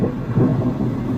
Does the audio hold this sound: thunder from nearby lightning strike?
yes